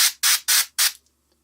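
Spray paint hissing onto a miniature turtle tank model in four short, loud bursts in quick succession, then silence.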